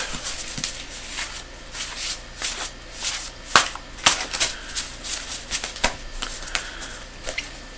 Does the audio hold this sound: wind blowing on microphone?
no